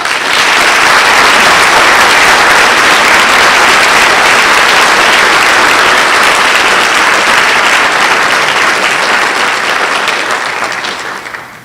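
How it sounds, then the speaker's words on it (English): Sustained, dense applause from a large audience at a National Honor Society induction ceremony, loud and steady throughout before tapering off at the end, with no talking. "Let's give them a round of applause."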